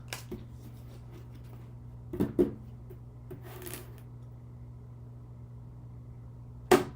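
Magical Unicorns oracle cards being shuffled by hand, heard as a few short crisp flutters and taps spread across a quiet background with a steady low hum.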